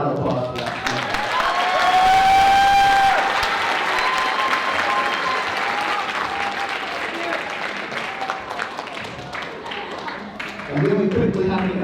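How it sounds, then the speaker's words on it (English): Sustained audience applause fills a school winter concert hall, a dense, even wash of many hands clapping that holds for several seconds, then thins out as a voice speaks over the tail. "So we can give a round of applause for that."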